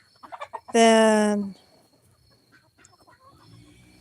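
A young breeding rooster crows once, a loud, close, harmonic call lasting under a second, bracketed by brief speech and faint farmyard background.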